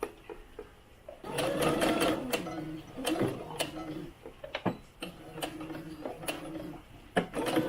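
A sewing machine stitches a folded seam on a doll's top, working in several short bursts of rapid needle ticking separated by pauses and handling noises, close and fairly quiet.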